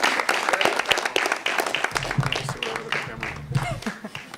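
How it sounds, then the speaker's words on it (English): Audience applause at a film festival Q&A screening: a burst of nearby hand claps over the first couple of seconds, then a voice talks while a few claps fade out underneath. "Round of applause for this."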